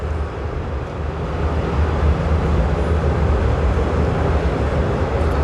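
Train running on an elevated railway out of Don Mueang station in Bangkok, a steady low rumble and rolling roar that holds loud and continuous throughout with no voices.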